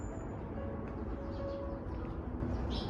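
Birds call in the woods along the Bongeunsa temple trail, with soft cooing and a brief bright chirp near the end, heard faintly over a low outdoor hum and quiet background music.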